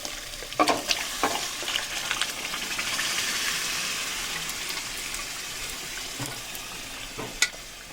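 Pre-cooked mutton being stir-fried in a wok (kadai) for Bengali mutton kosha, a broad continuous sizzle with a few sharp spatula scrapes and knocks, close and fairly loud, no talking.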